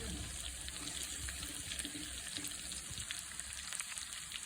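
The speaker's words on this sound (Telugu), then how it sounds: "ఇప్పుడు ఈ చికెన్ స్కిన్ ముక్కలు ఫ్రై అయిపోయినాయి అన్నాయి" Pieces of chicken skin crackle and fry in hot oil, a soft, steady sizzle with scattered small pops throughout.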